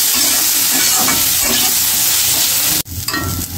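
Bitter gourd fries with chili powder, turmeric and salt in a pan, giving a loud, close, continuous sizzle and hiss with stirring scrapes, which briefly cuts out near the end before resuming.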